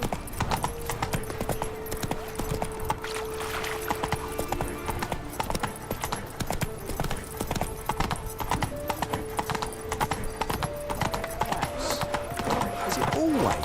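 Steady clip-clop of a galloping horse's hooves in The Witcher 3 video game, continuous and close, with game voices talking over it and music in the background.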